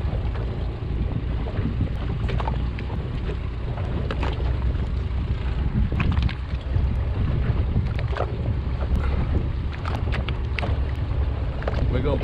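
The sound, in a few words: fishing boat engine running in forward gear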